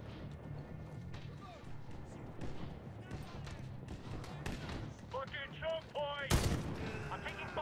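Gunfire from a weapon in the Medal of Honor video game, with several sharp shots scattered through busy in-game battle noise and a loud crack near the end.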